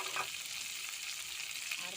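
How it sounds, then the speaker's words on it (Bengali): Onion, pumpkin and potato fry in mustard oil in a kadai, a faint but steady close sizzle that stays even throughout, with no voices. "আর কুমড়ো আলুটা দিয়ে দিলাম, একটু ভেজে নেব।"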